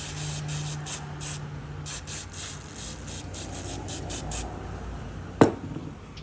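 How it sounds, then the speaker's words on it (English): Brake or carb cleaner is sprayed on the valves of an FS110 engine in a rapid series of short, close hissing bursts, followed by a single sharp clink. "So let's spray some brake clean or carb cleaner and clean it all up."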